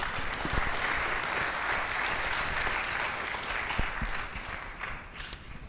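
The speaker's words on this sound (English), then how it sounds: "Please give me a big round of applause for all those five people." Audience at a JavaScript conference panel applauding, a sustained, even round of clapping from a sizable crowd lasting several seconds, with a few sharper individual claps near the end.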